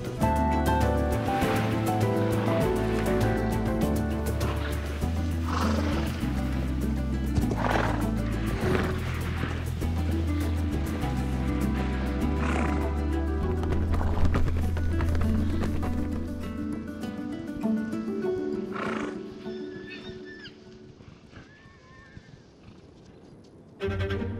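Wild horses on the Hungarian plain whinny and neigh loudly and repeatedly, with hooves shuffling and moving nearby, fading toward the end.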